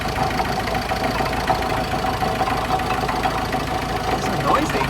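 A Nissan Qashqai engine runs noisily with a steady, loud mechanical drone and faint knocking, continuous throughout and heard up close.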